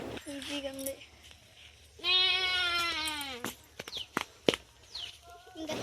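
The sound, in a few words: goats bleating in a mango orchard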